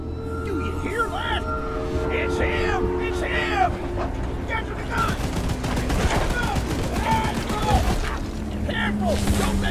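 A gun in a horror video game fires continuously in rapid, dense bursts over a low rumble of rolling rail machinery, while a person talks over the gunfire.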